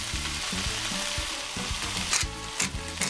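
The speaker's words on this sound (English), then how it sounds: "We're going to saute that for a little bit" Shrimp sautes in olive oil with paprika and cilantro, a steady close sizzle filling the whole stretch, with a few brighter scrapes of stirring near the end and no voices.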